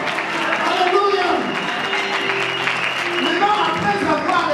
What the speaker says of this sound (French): Applaudissez très fort, applaudissez.